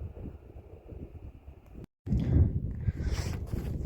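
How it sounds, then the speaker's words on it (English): Wind gusting over an open mountain trail near a frozen alpine lake, a low rumbling buffet against the microphone that drops out briefly, then returns stronger and rougher. "Oh, windy."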